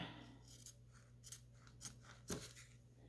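Scissors cut a long strip of fabric backed with duct tape for a doll craft, several distinct close snips at an uneven pace over a faint hum, with no talking.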